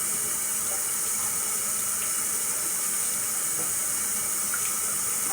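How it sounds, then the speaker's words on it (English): Tap water runs steadily through a strainer of quinoa grains being rinsed at a kitchen sink, a continuous hissing wash with faint patters, close and even throughout. "I'm going to rinse it one more time."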